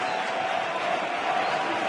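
Steady broadband murmur of a packed baseball stadium crowd during the Cubs vs Giants NLDS Game 1 playoff, a tense two-out moment with runners on second and third, sustained and even with no distinct cheers or talk.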